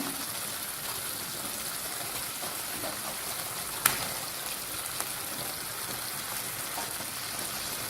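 Whole boiled eggs drop into sizzling masala in a pan, giving a steady hiss of frying with a sharp clatter near the middle and a few soft taps, and no voices.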